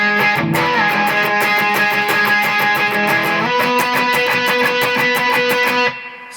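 Electric guitar riff played at normal speed, a loud, distorted, rapid chugging pattern of repeated notes and chords that cuts off near the end.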